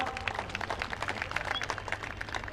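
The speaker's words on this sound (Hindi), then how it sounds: "तालियां बजाओ अंकु के लिए" An audience applauding at a gathering, with steady, dense clapping that holds at a moderate level from start to finish and is slightly muffled by the room.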